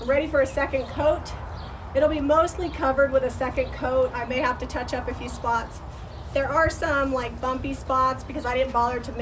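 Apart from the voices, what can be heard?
No everyday noises stand out.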